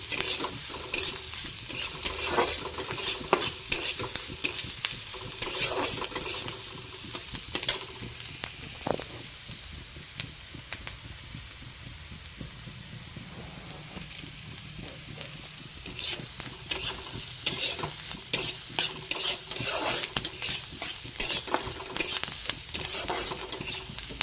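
Onions sizzle and fry in a pan while being stirred, with a continuous crackling hiss and repeated scraping, clattering stirs that come in bursts, dip to a quieter stretch midway, then pick up again.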